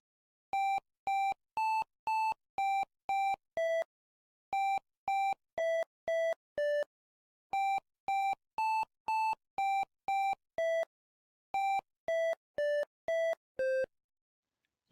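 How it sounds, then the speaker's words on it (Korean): Python winsound computer beeps play the Korean children's tune 학교종이 땡땡땡 as a melody of short, evenly timed electronic tones grouped into four phrases with brief pauses, clean and alone. "난이도를 좀 올려서 학교종이 땡땡땡을 해보겠습니다"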